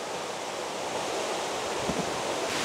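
Anakulam's river rushes in a dense, steady roar from close by, constant and unbroken with no voices.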